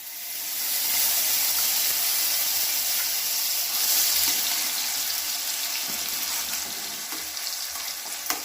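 Cashews, raisins and cardamom frying in ghee in a pan for pineapple kesari bath, a continuous bright sizzle with occasional stirring scrapes and small pops, close and fairly loud.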